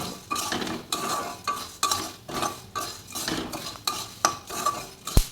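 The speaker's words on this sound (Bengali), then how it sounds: "এবার মুড়ি আর বাদাম এখানে আমি ভালো করে মিশিয়ে নেব" Puffed rice and peanuts stirred together in a bowl with a spoon, giving a steady rhythm of scraping, rustling strokes and light clinks, close and clear with no voices.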